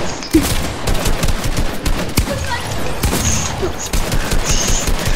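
Gunfire in Fortnite, rapid bursts of shots crackling in quick volleys, loud and close, with scattered louder reports, while a voice talks at moments over the action.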